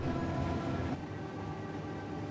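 Freight train rolling through a map in the video game Transport Fever 2, giving a steady, dense rumble with rattling wagons that holds at an even level throughout, with no talking.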